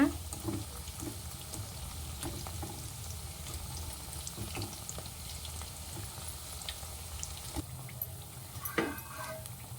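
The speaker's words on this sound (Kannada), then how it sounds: "ಇವಾಗ ಇದು ಡೀಪ್ ಫ್ರೈ ಆಗಿದೆ, ತೆಗಿತಾ ಇದ್ದೀನಿ." Gobi (cauliflower) Manchurian pieces deep frying in hot oil make a faint, steady bubbling sizzle with small clinks of stirring, close by and without talk.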